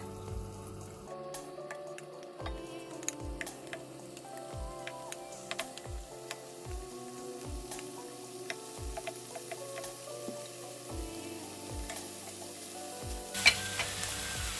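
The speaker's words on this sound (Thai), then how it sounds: "ถ้าเราจะใส่เนยเนาะ แล้วก็พอเนยพอละลายเนาะเราจะใส่ปลาเนาะ วางไปเลยแบบนี้เลยค่ะ" Fish frying in melted butter in a pan gives a steady close sizzle. Faint clicks and taps run through it, with a louder clatter near the end. No one speaks.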